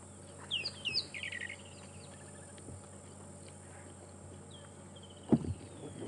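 A rattling cisticola calls on an African safari drive at sunrise, a few sharp chirping notes early on then a brief rattling burst, fairly faint and a little distant, with a single louder knock or thump near the end.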